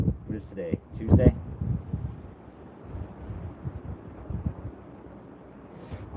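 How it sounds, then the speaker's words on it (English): Strong outdoor wind buffeting a microphone, a steady low rushing roar with gusty thumps throughout, while someone talks over it near the start. "we got a lot of wind here today"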